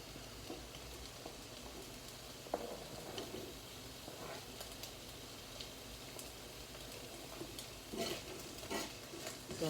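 Herbs frying in oil are stirred in a well-used Jamie Oliver frying pan, giving a quiet, steady sizzle. Light scraping and clicking stir strokes sit over it.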